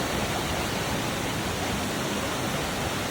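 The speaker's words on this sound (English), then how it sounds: "Walking through waterfalls." Steady, full-bodied roar of a waterfall at Siquijor in the Philippines, broadband and constant with no pauses, heard up close with no voices.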